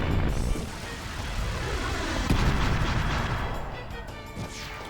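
A Fire Pillar spell goes off in Chrono Cross, a dense, roaring blast of fiery noise with a sharp crack near the middle, holding loud for several seconds before easing off slightly.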